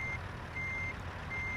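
A truck reverses while parking, its backup alarm sounding steady repeated beeps over a loud low engine rumble, close by.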